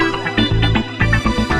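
A lush disco string pad plays sustained chords with no drums, full and warm, with gently pulsing swells and a busy layered texture throughout.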